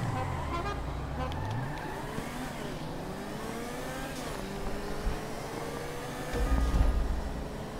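A car racing round a track, its engine revving up and down through gears with rising and falling pitch, loud and close, a rougher burst near the end and a voice briefly heard.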